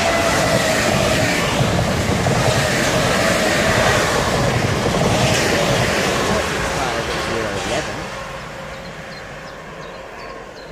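An electric passenger train, a Class 465, rumbles past close by at Swanscombe, its loud roar with faint clacking gradually fading as it moves away.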